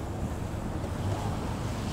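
Strong northwesterly wind gusting to about 12 metres per second sweeps over the frozen estuary at Anadyr on a frosty April afternoon, producing a loud, steady, buffeting roar with no talking.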